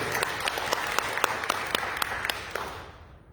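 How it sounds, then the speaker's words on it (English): An audience at a lunchtime talk applauds, with a short, dense burst of clapping that is loud at first and then fades. "Let's give a round of applause."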